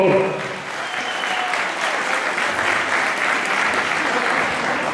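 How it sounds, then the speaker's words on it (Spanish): A crowd at a lucha libre wrestling event breaks into sustained applause, a dense, even roar of clapping that fills the hall from start to finish. "Un aplauso para ustedes mismos, por favor."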